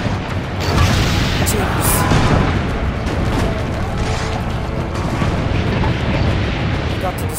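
Cannon fire and explosions in Assassin's Creed Brotherhood rumble as a dense, continuous roar with heavy low booms throughout, loud and close, while a voice briefly exclaims over the din.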